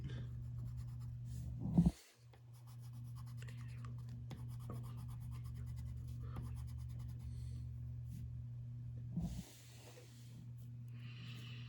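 Pencil shading on paper with the side of the pencil lead, a steady soft scratchy rubbing close up, continuous over a low background hum and broken twice by brief bumps, with no talk.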